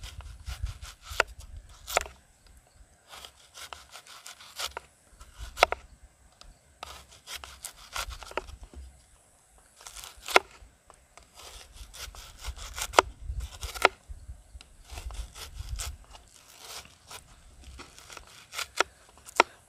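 Gorilla Survival neck knife slicing through an onion, giving a run of short, crisp cutting strokes in uneven bursts, close and fairly quiet with no talk.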